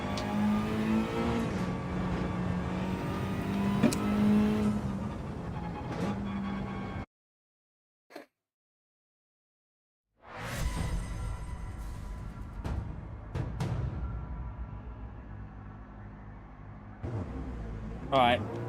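A Mazda race car in Gran Turismo 7 revs and pulls away at a race start, engine tone rising in stepped harmonics, cutting to silence briefly, then roaring again with gear changes, under someone talking throughout.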